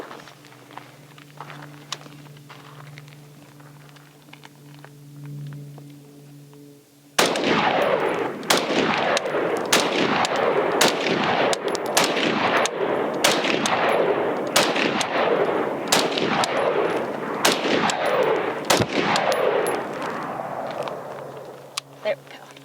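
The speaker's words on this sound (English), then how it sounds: "She's gonna get her first rounds through the Hellion." A Springfield Armory Hellion bullpup rifle fires a long series of sharp, loud shots at an outdoor range, spaced roughly a second apart, after a short stretch of quieter background noise and voices.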